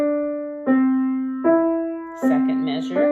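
Solo piano plays a short melodic line, single notes stepping up and down by seconds and then leaping a third, each note struck clearly with a gentle decay, close and alone without talk.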